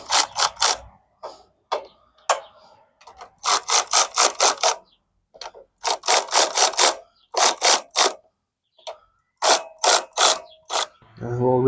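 A socket wrench ratchets nuts off a Coleman B200R engine, loud close bursts of rapid clicking in repeated runs separated by short pauses.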